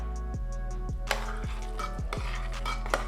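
Jaggery syrup stirred into sweet pongal in a pressure cooker, with several close, regular scrapes and knocks of a spoon against the metal pot and a steady low hum underneath.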